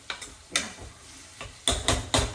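Onions sizzle gently in a pan with a pinch of salt, broken by a few scraping stirs and clinks, the last stronger bursts coming close together.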